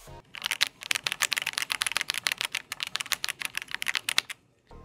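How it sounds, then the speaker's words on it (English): Rapid, close clacking of a OnePlus Keyboard 81 Pro mechanical keyboard fitted with PBT keycaps, a dense run of loud individual keystrokes typed in quick bursts for several seconds. "These are gonna give you that loud mechanical clacking sound."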